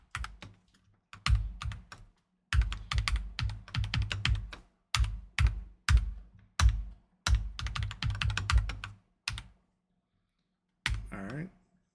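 Typing on a computer keyboard while entering formulas in Excel, close and crisp clusters of rapid key clicks in short bursts separated by pauses, with a brief faint voice near the end.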